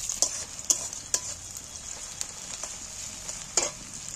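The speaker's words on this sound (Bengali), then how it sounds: "আমি ছোট পেঁয়াজ কাটাগুলো আমি ছাঁকা তেলে একটু ভেজে নেবো," Small chopped onions deep-fry in hot oil, a soft, steady hiss with a handful of sharp crackles and pops scattered across it, fairly quiet and close.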